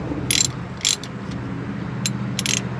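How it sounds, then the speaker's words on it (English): A 3/8 ratchet working on the differential cover bolts of an M1028 CUCV (K30) truck gives several short, crisp bursts of clicking, spaced apart, close by and over quiet background noise. "a 3/8 ratchet actually fits right in there"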